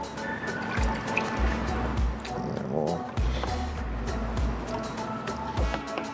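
Coral pieces are swished through a container of rinse water while removing acro-eating flatworms, producing irregular splashing, dripping and sloshing bursts close to the microphone.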